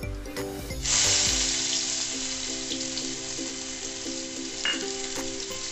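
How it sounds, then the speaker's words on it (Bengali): Chopped garlic and turmeric hit hot oil with a sudden loud sizzle that settles into steady close frying, with a few clinks of a utensil stirring in the pan. "আর এর মধ্যে আমি দিয়ে দেবো 5 কোয়া রসুন আমি কুচি করে কেটে নিয়েছি, সেইগুলো এর মধ্যে আমি দিয়ে দেবো।"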